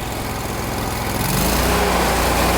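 A lawn mower engine with its deck lowered runs at full throttle, a loud steady drone that swells and thickens midway, with no voices.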